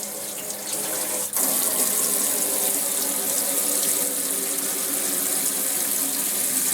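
Cold tap water runs steadily into a kitchen sink for washing freshly harvested Swiss chard, a continuous close splash and rush with a brief shift in flow partway through and no talking.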